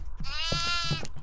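Goats bleating in a video game, one drawn-out, wavering bleat heard up close and loud, with no talk over it.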